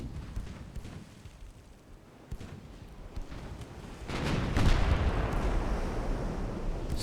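A French predreadnought's naval gun fires in the warship game Ultimate Admiral Dreadnoughts: a heavy low boom rolls in partway through and swells into a sustained, rumbling roar, with no talk.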